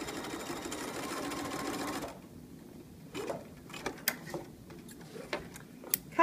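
A sewing machine runs steadily while stitching a rolled hem, a close continuous whir for about two seconds before stopping, followed by scattered faint clicks and handling noises.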